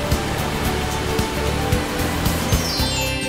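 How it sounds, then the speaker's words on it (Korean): Rushing water at Yongchu Falls on Wolchulsan in Yeongam, Korea, a steady broadband roar that stays loud and unbroken with no voices over it. "시원한 용추폭포 소리 따라"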